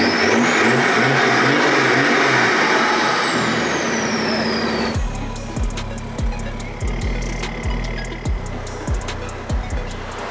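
A highly modified BMW E60 M5 on a dyno at full throttle, a loud sustained engine roar that cuts into a choppy, stuttering run of rapid pops and bangs as the revs hang and drop.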